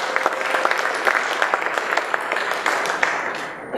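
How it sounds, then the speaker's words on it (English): A round of applause for a speaker at a Shark Tank startup event in San Francisco, a steady wash of many hands clapping that fades slightly at the end. "A round of applause for Andy."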